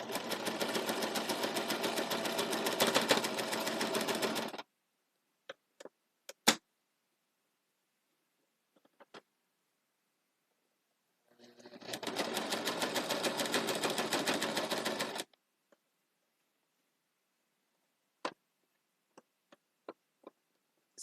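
A sewing machine stitching fabric masks runs in two sustained bursts of fast, even whirring, each a few seconds long, separated by quiet gaps with scattered small clicks and taps of handling.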